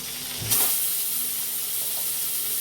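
Chicken pieces drop into hot oil in a pan and a loud sizzle flares at once, then settles into a steady close frying hiss with faint stirring. No one speaks.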